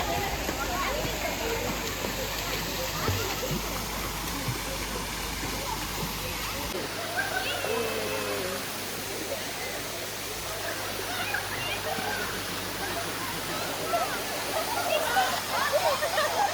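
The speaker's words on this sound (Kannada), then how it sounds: "ಶವರ್ ತಗೊಂಡು ಆಮೇಲೆ ಸ್ವಿಮ್ಮಿಂಗ್ ಪೂಲ್ಗೆ ಹೋಗೋದಂತೆ" At a resort, water pours and splashes from a shower by a swimming pool in a steady rushing wash, with faint voices under it.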